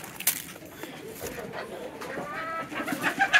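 Chickens cluck and chatter close by in a busy flock at feed, with short overlapping calls and some rustling.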